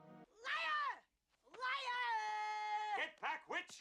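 Peach, an orange cat dressed in a Halloween costume, meows clearly and close by: one short mew, a long drawn-out meow, then several quick chirpy calls.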